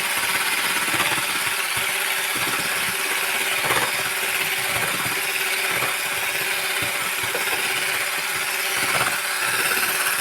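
An electric mixer beats eggs while sugar is added gradually, giving a continuous, fairly loud whirring buzz with faint scraping against the bowl and no talk.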